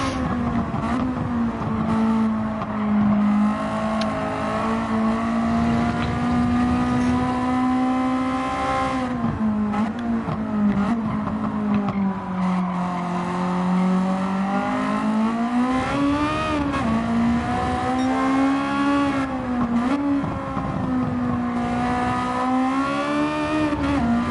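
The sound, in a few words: race car engine revving in the video game Gran Turismo 7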